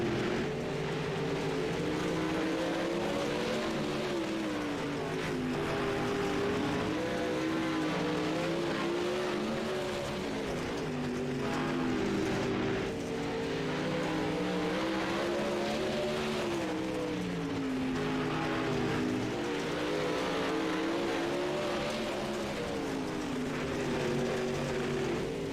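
Dirt race cars roar continuously through a heat race in the iRacing video game, their engines rising and falling in pitch as the pack circles, loud and unbroken with no speech.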